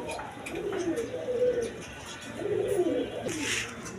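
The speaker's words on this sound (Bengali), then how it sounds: "দর্শকবৃন্দ এইখানে এক পেয়ার রেড কালার গড়ার বাচ্চা দেখেন, কোয়ালিটি সম্পন্ন কবুতর" A pair of red Gola pigeon chicks and other pigeons coo in soft, rolling, murmuring calls close by, rising and fading in two longer swells, with faint chirps and a short hiss near the end.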